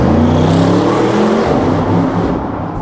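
An Audi RS7 with Quattro all-wheel drive pulls hard under heavy acceleration, its engine note loud and close, rising steadily in pitch through the gears before easing off near the end.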